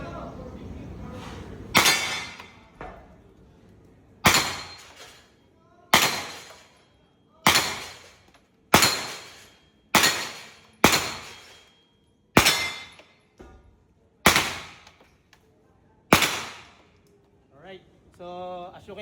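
Gunshots ring out one at a time during firing practice, ten sharp loud reports spaced roughly one to two seconds apart, each with a short decaying echo, and a brief voice follows near the end.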